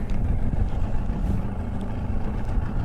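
An Arima Sea Chaser boat's engine idles at launch in rough weather, a steady low rumble with wind buffeting the microphone, close and continuous.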